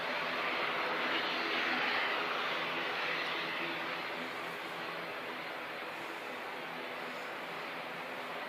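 Airliner NZ5803 approaching to land at Christchurch Airport, a broad steady engine roar heard from a distance that swells slightly and then eases, with no talk over it.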